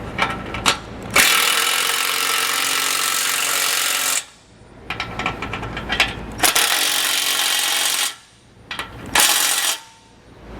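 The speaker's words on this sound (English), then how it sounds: "We'll come back with a 9/16 socket and tighten the rest of our hardware." A 9/16 socket ratchet tightens base plate hardware for a Blue Ox kit, giving bursts of rapid metallic clicking in several long runs separated by short pauses, loud and close, with no talk.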